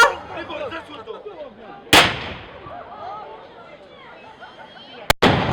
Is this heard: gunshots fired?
yes